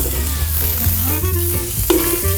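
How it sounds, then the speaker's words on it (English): Chorizo sizzling in olive oil in a pan at a camping cookout, a loud, close, continuous frying crackle with brief clinks and stirring scrapes, no voices. "Get that sizzling."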